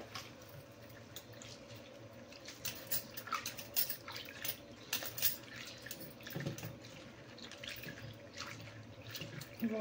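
Water runs from a tap and splashes in a steady, irregular stream as lentils are rinsed by hand in a kitchen, with light sloshing and a few louder bursts, no talking.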